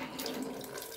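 Clean water from a toilet tank gushes and splashes steadily as a tank part is undone during a leaky running toilet repair, loud and close, with no talk.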